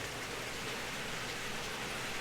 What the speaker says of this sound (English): Got that water boiling good.